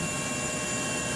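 Rescue helicopters hovering over a sinking ferry off South Korea, a steady, loud broadband rotor and engine roar filling the whole moment with no break or talk.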